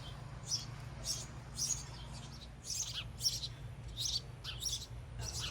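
Birds chirp and tweet in a back yard, a mother bird with her babies, giving repeated short high calls in bursts over steady low background hum, moderately close.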